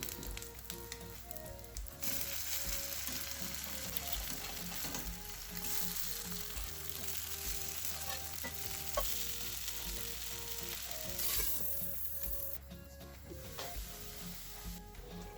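Grated potato pancakes (draniki) sizzle and crackle in oil in a covered frying pan, a dense, continuous frying hiss with small pops and stirring-like rustles, steady throughout with no talk.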